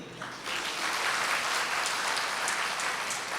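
Audience at a motivational talk breaking into sustained clapping, a dense even patter of many hands after a brief quiet start, fairly close.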